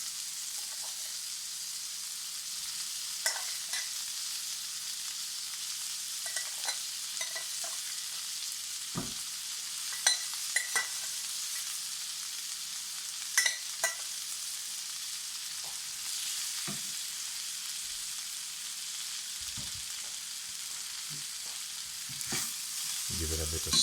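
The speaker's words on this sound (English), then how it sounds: "Then I'm going to add some pasta to it." Jerk pork and pepper pasta frying in a pan, a steady close sizzle broken by occasional clinks and scrapes of stirring over about twenty seconds, with no voices.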